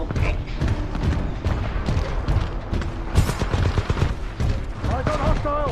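EVA-8 Auto shotgun in a video game firing rapid, booming blasts one after another, dense and loud, layered with other game gunfire and effects while players talk over it.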